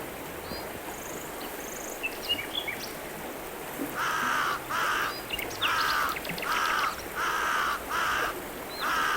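A crow caws in front of a house, a series of about six loud, evenly spaced caws over a steady background hiss, with faint bird chirps earlier.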